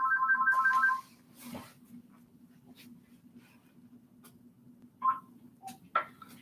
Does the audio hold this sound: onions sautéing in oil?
no